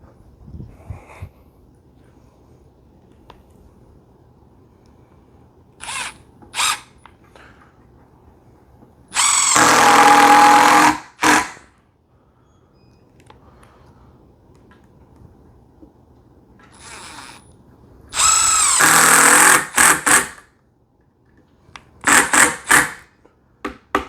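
A power drill drives screws into a DIY cordless vacuum stand in a few loud whirring bursts of about a second each, separated by quiet stretches with light handling clicks.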